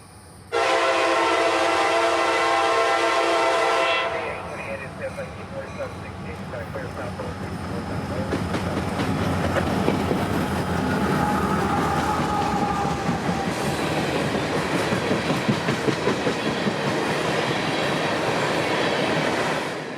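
A loud horn from locomotive B828 blasts steadily for several seconds, then the train roars past northbound nearby in Central Florida with rumbling wheels and engine noise that continues to the end.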